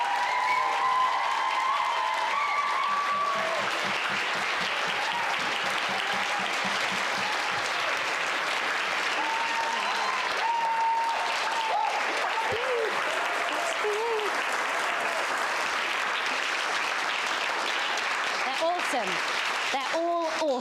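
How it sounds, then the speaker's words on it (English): Sustained audience applause at a Shakespeare performance grand final, steady and full for about twenty seconds, with scattered cheers and voices mixed into the clapping crowd. "let's give them a huge round of applause,"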